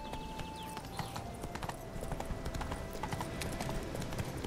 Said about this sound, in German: Dann reiten wir wieder zurück